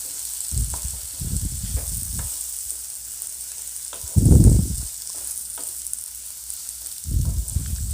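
Coriander powder being stirred as it fries in a pan for chicken tikka gravy, heard as several separate bursts of scraping and sizzling with quiet pauses between them, no voices.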